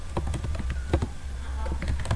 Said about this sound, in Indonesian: Kita ketikkan router BGP 2